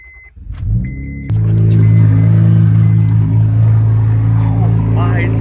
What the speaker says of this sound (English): Y'all ready for this cold start?